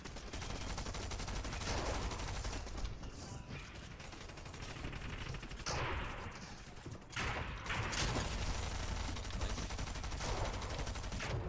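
Bursts of video game gunfire, including rapid automatic fire with short gaps between volleys, loud and dense throughout the clip.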